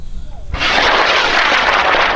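A high power rocket motor ignites at an AIRFest launch, a sudden loud roaring blast that holds as a steady, dense rushing roar after a quieter start.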